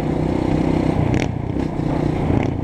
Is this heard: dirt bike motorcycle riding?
yes